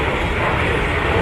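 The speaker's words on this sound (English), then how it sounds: "here comes the lore airplane" An airplane sweeps past as a sound effect, a loud, steady roar of engine noise filling the whole brief moment without a break.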